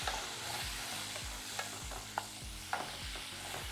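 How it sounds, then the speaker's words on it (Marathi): Dried jawla shrimp are sautéed and tossed in a pan, a steady close sizzle broken by rhythmic scraping strokes of a spoon and a few sharp clicks against the metal. "छानपैकी परतून घ्या."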